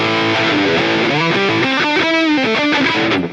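A fuzzy, saturated electric guitar through a Pocket Fuzz effect on an HX Stomp plays a short run of notes, loud and buzzy, then trails off.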